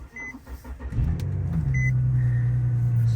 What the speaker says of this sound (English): let's fire up the G37